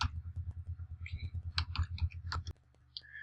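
Close, quick keystrokes on a computer keyboard, a run of irregular clicks under a low steady hum, stopping abruptly, then one last faint tap.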